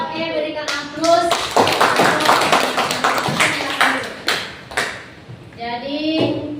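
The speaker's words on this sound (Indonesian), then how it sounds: "Oke, berikan aplaus." Classroom applause breaks out among students and runs for several seconds in a steady, fairly loud burst, with a speaking voice heard before and after the clapping.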